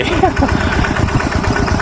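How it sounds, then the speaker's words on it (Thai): A two-wheel walking tractor engine running close by, a loud rapid chugging with a steady beat throughout, and a voice talking over it. "รถไถสูบบอครับ"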